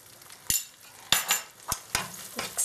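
A spoon stirs thick Dudhi halwa with cardamom and crushed almonds in a pan, giving a few sharp scraping clinks at uneven intervals over a soft sizzle, with no talk.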